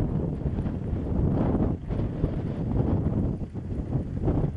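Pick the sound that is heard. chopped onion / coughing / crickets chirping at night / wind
wind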